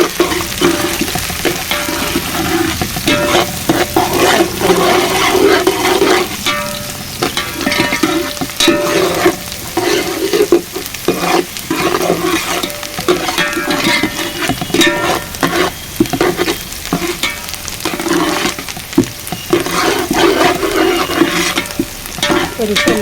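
Fish pieces and curry leaves fry in hot oil for Telangana-style fish curry, giving a continuous loud sizzle and crackle with stirring scrapes throughout, close up and without talk.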